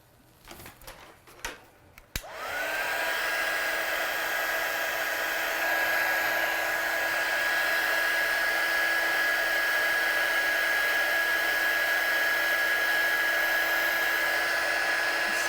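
A heat tool blowing hot air to set stamped ink in a craft session, starting after a few handling clicks, then a steady loud whooshing whine with a constant high tone lasting the rest of the time, no talk.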